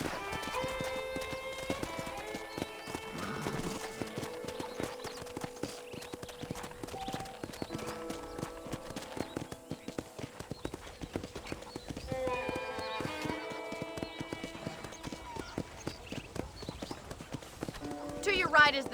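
Horse hooves clip-clopping in a steady trotting rhythm while riding around a ranch in the video game Red Dead Redemption, running continuously beneath game music and a talking voice, with an occasional snort or whinny.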